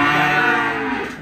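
Cattle lowing inside a dark livestock truck, one of a group of black and grey cows being sold: a single loud, drawn-out moo filling the whole moment, close and clear with no talk.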